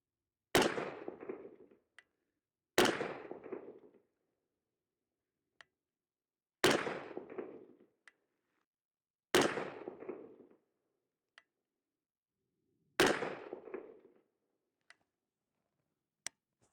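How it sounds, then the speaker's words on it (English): Five sharp rifle shots from a Fightlite SCR rifle, fired one at a time with pauses of roughly two to four seconds, each a loud crack with a short echoing tail, faint clicks between. "let's see what we could do with a quick 5-shot group and see how this rifle is going to group for us today"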